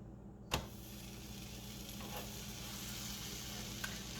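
Grilled cheese sandwich sizzling steadily in a hot skillet right after being flipped, with a sharp clatter at the flip and a constant frying hiss throughout.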